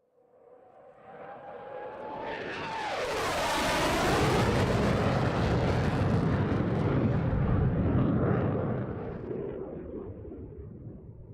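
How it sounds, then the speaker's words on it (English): An F-15 jet makes a high-speed pass in a Roblox aerobatic show: a whine rises out of near silence, swells into a loud, broad roar with a falling pitch sweep as it passes overhead, then slowly fades away. "From the right, it's the F-15 and the high-speed pass."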